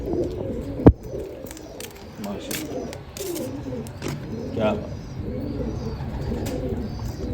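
Pigeons of a fancy Topi breed coo in repeated low, soft phrases close by, while someone talks over them and one sharp knock sounds near the start.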